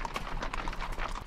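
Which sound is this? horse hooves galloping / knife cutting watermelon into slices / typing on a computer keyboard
horse hooves galloping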